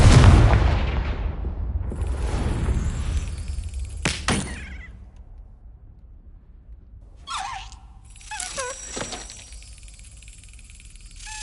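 Confringo spell blasts in the Hogwarts Legacy video game: a heavy explosion opens with a long rumbling decay, then a sharp crack follows and a few more muffled bursts come later.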